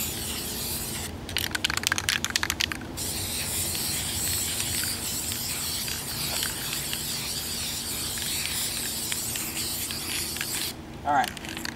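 Primer coat sprayed onto a gun for woodland camo, a steady airy hiss of spray under quiet speech, with sharper bursts of spraying near the start and again close to the end.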